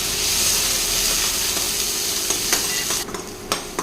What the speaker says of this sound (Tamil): இப்போ தக்காளி வந்து நல்லா வதங்கிடுச்சுங்க